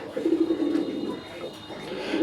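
Pigeons of a local breed kept for sale coo softly in low, rolling calls, with faint background noise throughout.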